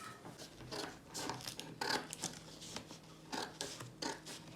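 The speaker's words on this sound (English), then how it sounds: "Be careful with the scissors" Quiet, close snipping and rustling as scissors cut through paper in short irregular strokes, with a few brief pauses between cuts.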